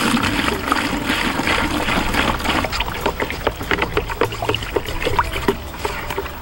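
Water poured into a bucket marked with fill lines, a gallon measured while preparing to plant bare-root Christmas tree transplants: steady gushing and trickling with splashy spatters, close and fairly loud, no talk.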